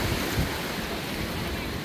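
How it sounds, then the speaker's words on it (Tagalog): Strong ocean waves at high tide on a beach in Noja, Cantabria, Spain, with a steady, loud roar of surf and wind rumbling throughout and no voices. "Ang lakas ng alon, no? High tide na kasi."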